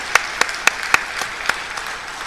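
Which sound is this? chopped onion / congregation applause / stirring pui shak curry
congregation applause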